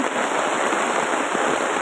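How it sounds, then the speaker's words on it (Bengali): Dense, steady roar of heavy rain pouring down, a constant hiss of countless drops striking surfaces close by. "এখন অতিরিক্ত বৃষ্টি হচ্ছে"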